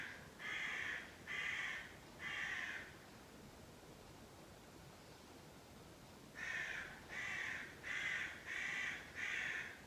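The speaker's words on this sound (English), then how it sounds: "Got some crows talking to us outside by the sound of it" Crows cawing outside, heard as a burst of three harsh caws, a pause, then five more in a steady rhythm, moderately close over faint background hiss.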